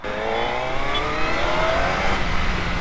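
Suzuki Hayabusa superbike engine running steadily while being ridden, a continuous loud, close drone with a slight rise in pitch partway through and no talk over it.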